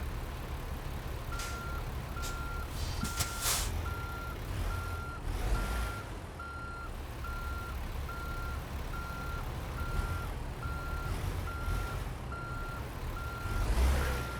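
Truck reversing in the video game American Truck Simulator, evenly spaced electronic backup beeps repeating over a loud idling diesel engine rumble, with a few hissing air bursts early on and no talking.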